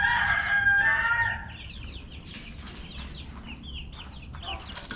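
Amber star and red star chickens in a barn coop give a burst of loud clucking and squawking close by, then a run of soft, chirpy peeps and calls that carries on at a lower level.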